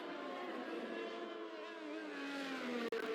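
A Formula 1 car in F1 2021 exits the pit lane on soft tyres at the Chinese circuit, its engine holding a steady, bright high-pitched drone that climbs slightly, heard at a moderate distance with no talk.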